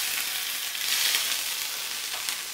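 Fataya filling sizzles and fries in hot oil, a steady, dense crackle holding at close range throughout with no talk over it.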